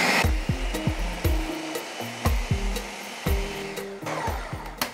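A kitchen blender mixes flour into crepe batter in short bursts: a whirring motor pulses on and off, dropping in pitch and rising again, over several seconds with no talking.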